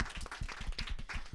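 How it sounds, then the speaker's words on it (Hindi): A live audience at an antakshari singing contest gives a short burst of quiet clapping, dense and fairly faint, lasting just over a second. "तालियां आप सभी के लिए पहले तो"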